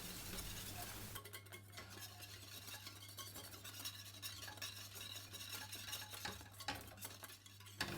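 Close, continuous scraping and stirring of a whisk against a pan over a direct flame, whisking sabayon for béarnaise sauce, quick rhythmic strokes over a low steady hum, with no voices.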